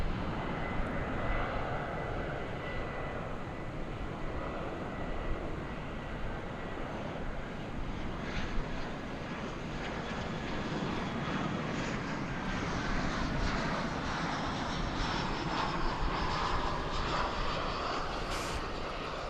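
A Dash 8 Q400 turboprop airliner lined up on the runway at Dallas Fort Worth airport gives a steady, droning engine roar with faint whining tones, continuous and moderately distant, with no talk.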